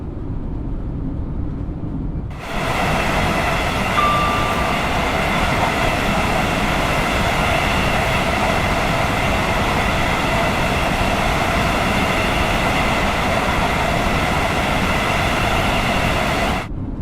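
Avanti West Coast class 805 train running on the West Coast Main Line in Train Sim World 6, a loud, steady rolling drone with a high whine that starts abruptly after a quiet lead-in and holds unbroken, no voices.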